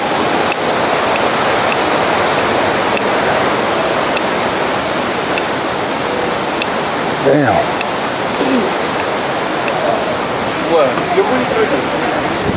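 Rushing water from a Yosemite waterfall roars as a loud, steady broadband wash close by, with spray hitting nearby; a person briefly exclaims partway through.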